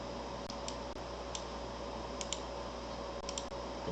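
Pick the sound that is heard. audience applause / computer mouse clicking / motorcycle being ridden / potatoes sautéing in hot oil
computer mouse clicking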